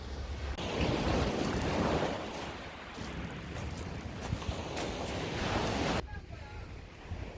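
Waves wash steadily onto the shore at Padori beach, a quiet and little-visited stretch of sea, a continuous broad surf roar mixed with wind buffeting the microphone.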